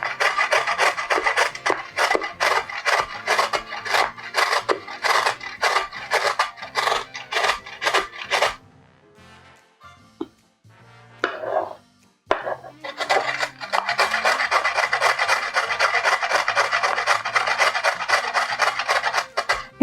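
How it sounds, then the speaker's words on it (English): Carrots grated by hand on a kitchen grater: repeated rhythmic rasping strokes, loud and close, in a steady fast series, a short pause with quieter handling, then another long run of strokes. "So my onion is grated. Now I'm going to do carrots."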